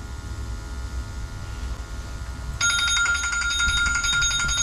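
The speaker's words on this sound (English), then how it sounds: "Okay, the timer's up." A timer alarm goes off during a combustion test on a gas-fired atmospheric boiler, a loud repeating electronic ringing that starts midway and cuts over the steady roar of the running boiler.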